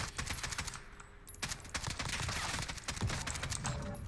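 AK-47 automatic fire in Call of Duty: Modern Warfare, dense crackling bursts running almost continuously at steady loudness, with little gap between volleys.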